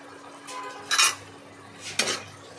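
Garam masala stirred in a frying pan for a vetki fish rosha: two distinct bursts of a metal spoon scraping and clinking against the pan, close and fairly loud over a faint low sizzle.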